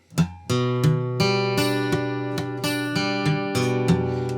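Guitar strings plucked one at a time, about nine separate notes each ringing out with sustain, steady and clear with no talking.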